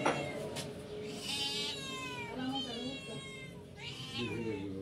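Black and white cats meow repeatedly while waiting to be fed at a restaurant, their calls close and overlapping in rising and falling cries over a busy background murmur.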